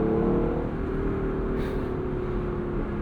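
Deep, close V8 bellow from a 2024 Lexus LC 500 convertible driven in sport manual mode, the engine note sustained and rising under steady road noise.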